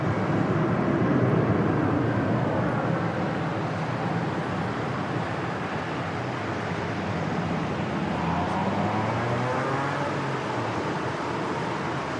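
Steady broadband roar of a jet's takeoff roll at Sydney Airport on a wet, windy day, heard from a distance with a rising whine late on, continuous and without speech.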